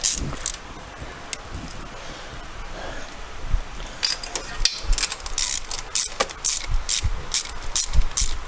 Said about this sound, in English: I just do them up finger tight and then I nip them with the ratchet